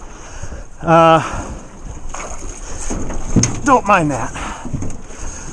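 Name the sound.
Blazer Marine Backlash Gen 3 RC boat engine running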